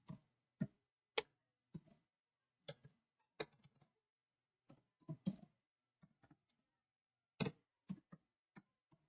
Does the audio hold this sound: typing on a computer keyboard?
yes